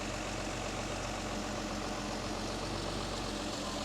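A Mercedes Pagoda six-cylinder engine idling smoothly after a points and dwell tune-up, a close, loud, steady rumble with no voices.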